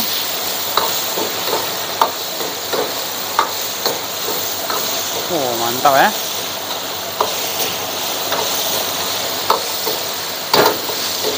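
Steady sizzling of chili stir-frying in hot oil, with occasional scraping stirs and a short spoken exclamation over the crackle.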